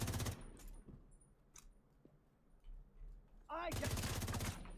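Gunfire from the video game The Division 2, with loud bursts of rapid shots at the start and again near the end, separated by quieter game ambience and brief faint effects.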